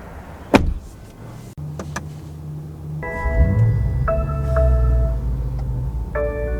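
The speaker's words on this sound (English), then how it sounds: "By the way, steering wheel is power adjustable." The power adjustable steering wheel motor in a 2023 BMW M5 Competition, heard after a couple of sharp clicks, gives a steady electric whir that runs for several seconds under tonal chimes in the cabin.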